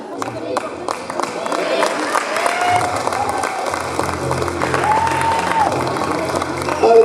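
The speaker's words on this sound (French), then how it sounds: "Les applaudissements vous remontent l'énergie encore et encore." Applause from an audience at a hypnosis talent contest show, with cheering and voices mixed into the steady clapping, plus a few sharp claps close by, holding at even strength throughout.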